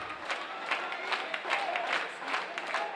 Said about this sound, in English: The Hardy fans that are still here pulling for LaGrange, rhythmically clapping.